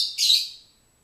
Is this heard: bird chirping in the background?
yes